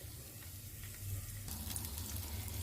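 Chopped onion frying in a pan, softening over heat without browning: a steady, close sizzle and crackle that continues evenly throughout, with no voices.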